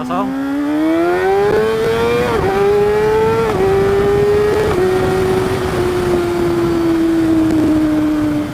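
A Kawasaki Ninja ZX636 sport motorcycle engine revs hard in neutral, pitch climbing in a few stepped blips, then holding a loud steady drone that slowly sags.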